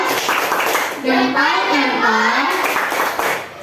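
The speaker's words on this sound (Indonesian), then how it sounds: "Tepuk salut." Children in a classroom perform a rhythmic group clapping cheer after a group presentation. Sharp claps mix with the children's chanted voices, loud and close, rising in the middle.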